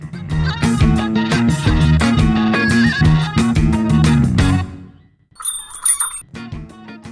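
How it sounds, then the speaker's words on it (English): An electronic door chime at a store entrance rings out in a bright, bell-like burst of tones, following a stretch of louder chiming notes. "that's that door chime letting you know that I'm in the store, John."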